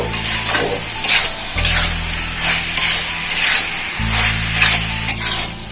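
Chicken and vegetables sauté in a pan under loud, rhythmic spatula scraping and clanks against the metal, over a steady sizzle, with a low hum dropping out and returning; no speech.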